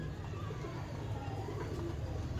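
Pigeons kept for flying coo softly in a loft. Low, faint cooing runs under constant background noise.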